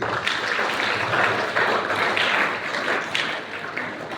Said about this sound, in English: Give her a big clap, please.